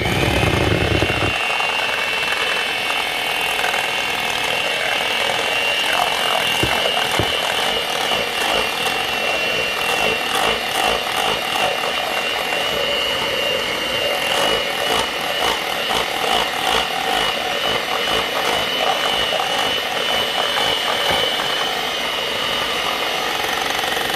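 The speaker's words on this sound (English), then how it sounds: "So we're gonna mix up the butter we have in here." An electric mixer whips butter in a bowl to make cake icing, giving a steady, loud whirring drone with scraping, rattling texture that runs continuously without talk.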